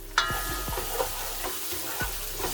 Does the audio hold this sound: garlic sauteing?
yes